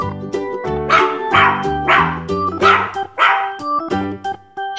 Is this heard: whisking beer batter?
no